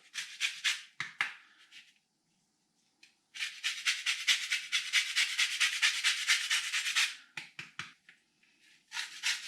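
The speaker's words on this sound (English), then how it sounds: "Lemon zest on the top." Lemon being zested over cooked beef osso buco, fine scraping strokes in short bursts and then one long rapid run of rasping, close up with no voices.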